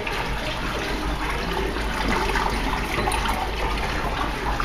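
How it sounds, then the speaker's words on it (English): Water rushes steadily and hisses as it drains during a Fulton boiler blowdown, a continuous splashing flow with no pauses. "This operation is completed by closing the main blowdown valve."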